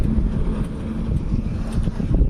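Steady wind buffets the microphone from a moving car with a fault that keeps it from picking up speed, giving a constant low rumble and roar with no talk.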